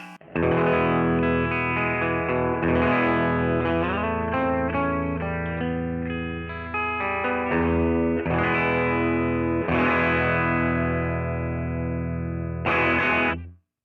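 An overdriven electric guitar plays a sustained chordal loop through a tube amp with NOS tubes, ringing notes and a few bright accents, full and warm, ending in a quick fade.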